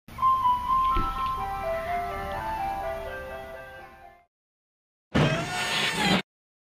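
An ice cream truck plays its chiming jingle melody loud and close for about four seconds, followed by a short pause and then a brief burst of noisy engine or road sound.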